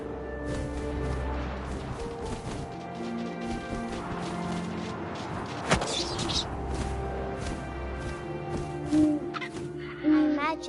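Owl hooting in the game What Remains of Edith Finch, sounding over a dense layered game soundscape with tonal drones, a sharp crash midway and a few close calls near the end.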